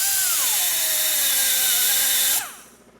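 A power tool grinds into a Milwaukee-Eight cylinder head from a 2017 motorcycle engine, enlarging a hole during a head gasket surface repair. It runs loud and steady, its pitch sagging under load, then cuts off abruptly near the end and spins down.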